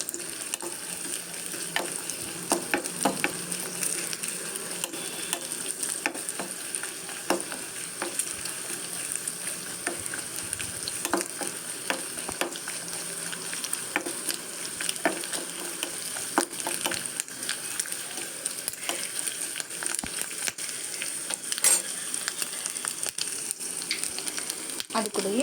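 Sliced coconut pieces roast in ghee in a kadai, giving a soft, steady sizzle with faint stirring scrapes throughout, heard alone at a low level.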